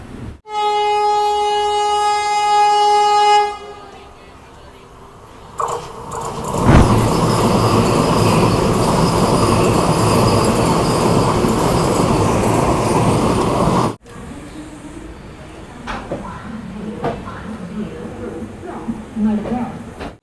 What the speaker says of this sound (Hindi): हम लोग की जो ट्रेन है वो अभी पहुंच चुकी है Mandovi express train Panvel railway station पे